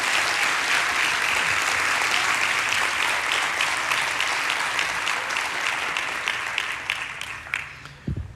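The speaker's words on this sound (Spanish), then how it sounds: "Un aplauso a todos ustedes y a Jesús." A church audience applauds together in a sustained, dense burst of clapping that holds steady and then thins out and fades near the end, with no one talking over it.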